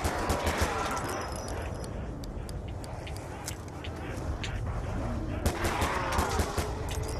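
Python revolver firing in a Call of Duty zombies round, loud sharp reports cracking repeatedly over busy game noise, with denser bursts near the start and end.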